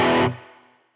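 A single overdriven electric guitar chord played through a Princeton amp rings out loud and gritty, cuts off after a moment, and a faint tail decays into silence.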